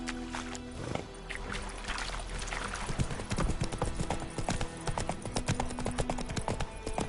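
Horse hooves clip-clopping at a steady riding pace in The Witcher 3, close and clear over a layered game ambience with faint music.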